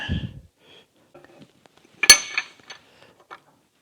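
A metal blocker ring is set back into an IH Scout 800 manual transmission case, giving one sharp metallic clink with a few lighter taps and rattles after it, close and clear in a quiet workshop.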